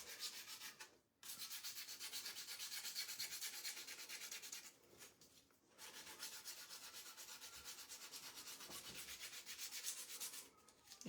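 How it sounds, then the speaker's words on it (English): Steady scraping of paint off the edge of a wooden sign, a close, continuous rasping with two short pauses where the tool lifts, no voices. "Yeah, see, I'm like scraping it."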